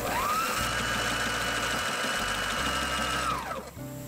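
A Sailrite sewing machine stitches a track strip onto a boat enclosure in one close, steady run of fast stitches that winds down near the end. No one talks.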